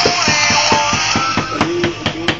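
Steady hammer blows at a brisk, even rhythm, about ten close, loud impacts in quick succession with a ringing metallic edge, alone without talk.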